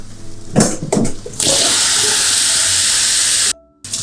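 Apples and butter go into hot caramel in a pan on a lowered flame: a few knocks, then a loud, steady sizzling hiss that holds for about two seconds and cuts off abruptly.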